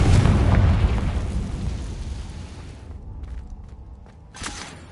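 A Confringo fire spell explodes in Hogwarts Legacy on PS5, a loud broad blast rumbling heavily at first, then thinning out as it dies away, with a few faint crackles and a smaller burst near the end.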